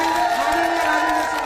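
A crowd at a political gathering in Udaipurwati, Rajasthan cheers and whoops at the leader, a loud, sustained roar with voices mixed in.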